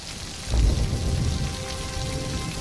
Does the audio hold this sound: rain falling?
yes